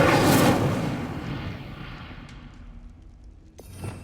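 An Incendio fire spell cast in Hogwarts Legacy bursts out as a loud roaring whoosh, then fades into a crackling rumble before a brief sharp flare near the end.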